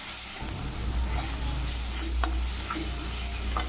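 Spice paste with Kashmiri red chili powder frying in a pan, a soft continuous sizzle under a low hum, with occasional light clinks of a utensil stirring against the pan.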